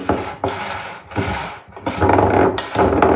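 Shredded meat for homemade aspic is stirred in a bowl, giving repeated close scraping and rubbing strokes in uneven bursts with short pauses between them.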